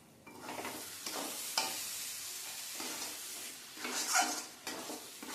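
A spatula stirs loitta (Bombay duck) fish jhuro mixed with coriander leaves in a frying pan, soft sizzling broken by repeated scraping strokes and occasional clinks against the pan, fairly quiet and close.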